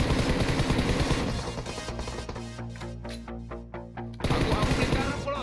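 Repeated shots ring out in a shooter video game: a quick, regular run of sharp bursts over a dense, busy game soundtrack, with voices talking now and then.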